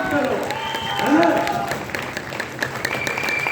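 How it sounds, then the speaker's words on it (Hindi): Loud applause fills a meeting hall, a sustained crowd clapping with scattered cheers while people talk and shout over it. "उनके लिए ये तालियां नहीं, जोरदार तालियां दीजिए"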